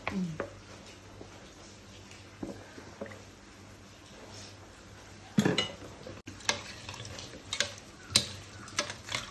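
A spoon stirs a kaalan curry of raw plantain, green chillies, water and coconut oil in a pot, with faint scraping at first and then louder, irregular clinks and scrapes against the pot in the second half.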